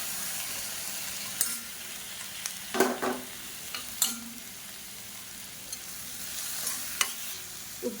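Onions and two medium tomatoes sautéing in a pan for an idli and dosa side dish, with soft intermittent stirring scrapes and quiet sizzling close by, no talking.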